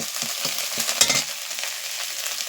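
Ground paste of mustard, cumin, fennel and coriander fries lightly in a hot pan, a steady close sizzle with a few soft scrapes of stirring and one brief louder burst.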